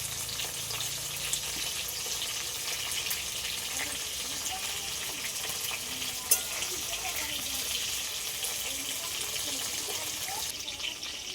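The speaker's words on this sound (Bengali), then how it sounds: "তেলটা গরম হয়ে গেছে এই আমগুলো এবার আমি ভেজে নেব" Mango pieces fry in hot oil in a pan, a constant soft sizzle with occasional stirring clatter and one sharp knock, close and fairly quiet, with faint murmuring in the background.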